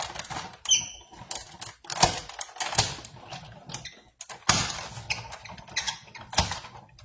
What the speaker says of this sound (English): We're going to put our top plate on. And we're just going to run this through.